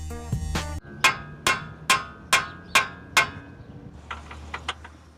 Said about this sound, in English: You may need a hammer to speed up the process.